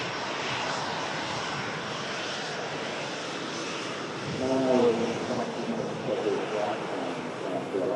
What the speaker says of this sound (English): Virgin Atlantic 330 for Atlanta now crosses the active arrivals runway with the Logan Air behind as well